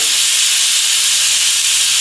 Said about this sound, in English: Steam is coming out now